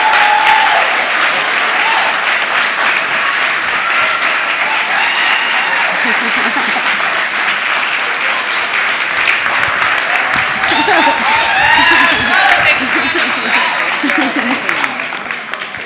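A showcase audience applauds and cheers for young innovators in a long, sustained ovation, with whoops and voices rising through the clapping and a few tonal calls near the end before it begins to fade.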